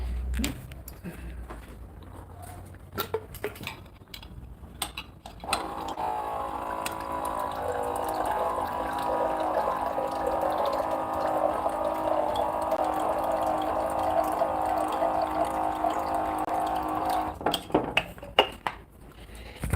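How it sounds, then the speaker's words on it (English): Water runs steadily into a bottle or glass for about twelve seconds, a continuous close pour with faint rising fill tones, bracketed by quiet handling clatter before and after. "And for now, I'm filling my water."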